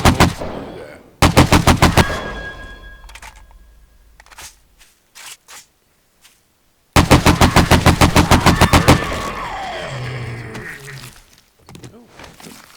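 Rapid automatic gunfire from the zombie survival video game 7 Days to Die, two long loud bursts of evenly spaced shots separated by a few scattered single shots and quieter gaps.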